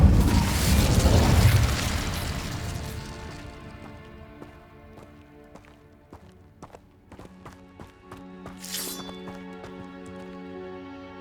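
An Incendio fire spell cast in Hogwarts Legacy on PlayStation 5, a loud booming whoosh of flame at the start that fades into quieter game ambience with light clinks and footsteps.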